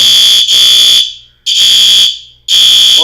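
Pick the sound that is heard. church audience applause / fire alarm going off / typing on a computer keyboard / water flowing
fire alarm going off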